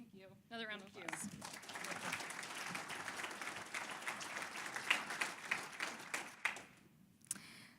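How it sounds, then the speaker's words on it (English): After a brief voice at the start, an education conference audience breaks into applause that builds into dense clapping, then thins to scattered individual claps and fades toward the end. "Another round of applause."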